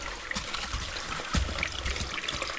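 Water trickles and dribbles into a drain inside the disused Sandsend railway tunnel, a steady, close, gurgling flow with a brief louder splash midway.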